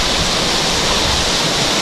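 Waterfall at Mae Kampong village throwing constant spray, a loud, unbroken roar of rushing water heard up close.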